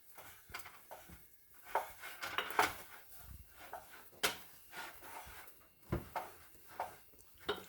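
A sturdy spoon stirs a melting mixture in a pot over low heat, close and quiet, with intermittent scraping and clinking knocks against the pot, spaced irregularly, without talk.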